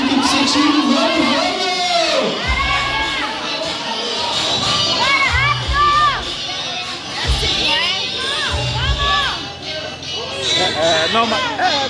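A crowd at a CrossFit tournament cheers and shouts loudly and continuously, with a commentator talking over the noise.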